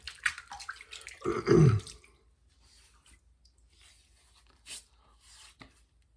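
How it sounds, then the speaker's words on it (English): Water splashing as a man wets his face before a wet shave, a loud burst of splashes and drips close by lasting about a second, then faint trickles and small drops in a quiet room. "I'll go ahead and wet the face and get started with the shave"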